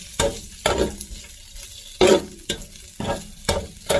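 Meat frying in olive oil for paella sizzles close up, with a spoon stirring in about six distinct, rhythmic scraping strokes over a continuous hiss.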